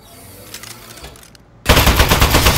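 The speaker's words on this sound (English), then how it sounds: "Presenting the Aperture Science Turret. Go on, take it for a spin." Aperture Science Turret opening fire in the game Aperture Desk Job: quiet mechanical clicks and whirs build up, then a sudden loud burst of rapid gunfire crashes in and continues to the end.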